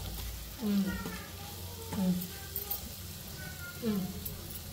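Prawns with fenugreek leaves fry in a pan with a steady, soft sizzle that runs under a voice talking throughout.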